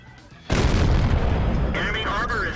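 A tank being destroyed in the World of Tanks video game bursts into a loud, sustained explosion roar that hits suddenly and keeps rumbling, with a crackling whistle-like tail near the end.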